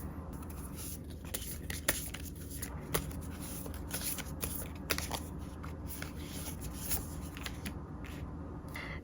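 Tarot cards being shuffled and drawn at a reading table, a steady soft riffling and sliding with a few sharper snaps, fairly close and quiet, with no one speaking.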